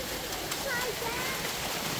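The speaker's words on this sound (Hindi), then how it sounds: "ये पानी आ रहा है," Water rushes steadily through a drainage channel in a boggy forest, a close, continuous broadband wash of flowing water with no breaks.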